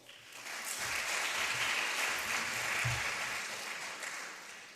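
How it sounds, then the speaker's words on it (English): Summit audience applauds for a speaker: dense clapping swells in, holds steady and broad, then tapers slightly toward the end, moderately quiet and without voices. "So please, round of applause"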